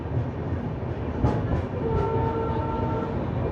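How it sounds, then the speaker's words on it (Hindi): A train departing a station in India, seen from the Shri Ganganagar–Delhi Intercity, rumbling steadily nearby with wheel and carriage clatter and a few sharp metallic clanks. "ये देखिए, इसका डिपार्ट हो रहा है, अपना अराइवल हो रहा है।"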